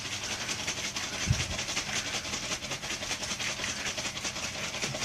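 Dried tomato powder shaken from a kitchen shaker, giving a steady, rhythmic dry rustling hiss with quick repeated pulses, close and fairly soft, with no talking.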